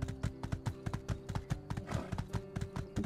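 A horse in the My Time at Sandrock video game trots with steady, brisk clip-clop hoofbeats, close and even, over a low hum of ambient game sound.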